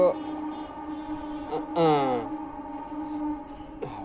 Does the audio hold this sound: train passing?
yes